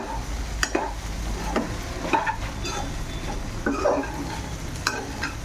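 Lady finger (okra) coconut curry cooks in a pan over a medium flame, a steady sizzle broken by repeated scraping stirs of a spoon against the pan, with no voices.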